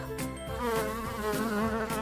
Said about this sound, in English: Is there a bee in my house?